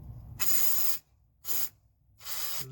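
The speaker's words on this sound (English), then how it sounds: "we're just going to lube that stuff up in there and make it work. I usually just spray a bunch of this stuff." Aerosol lubricant sprayed into the rear door mechanism of a 1979 Lincoln Continental Town Car, three loud hissing bursts of uneven length with short pauses between, close and alone.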